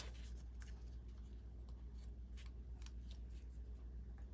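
Scissors snip through a sheet of material in a craft setting, a few quiet, scattered cuts over steady low background hum, with no talking.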